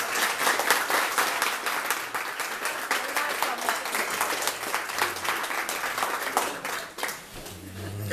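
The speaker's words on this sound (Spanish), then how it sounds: "Y quiero un aplauso para el licenciado." Applause from a crowd at an outdoor New Year's Day parade event in Chepo, Panama: sustained dense clapping, loud and near, that thins and fades toward the end.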